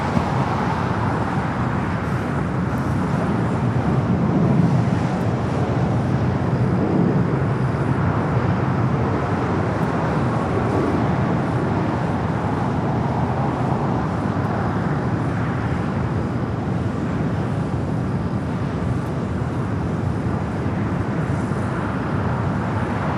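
Aircraft on runway 25 left at LAX, a steady broadband roar of jet engine and rumble holding at a constant, fairly loud level throughout, with no talk.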